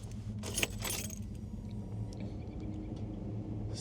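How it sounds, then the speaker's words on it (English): Keys jangle as they are slipped into the ignition of a 1992 Ford F150 XLT Lariat, a short bright metallic rattle up close over a faint low cabin rumble, then quieter. "If I slip the keys in here,"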